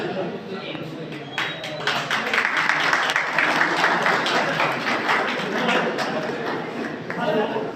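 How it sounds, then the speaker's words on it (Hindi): At an Indian felicitation ceremony with poetry recitation, the audience claps, building from scattered hands into fuller, continuous applause mixed with faint crowd chatter. "बजाइए तालियां अगर हाथों में जान है।"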